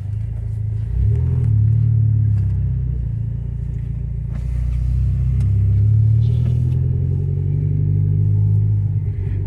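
The engine of a black 2012 Mitsubishi Lancer Ralliart Sportback AWD idles with a deep, steady rumble, swelling slightly now and then as it is lightly revved, heard close with no talking.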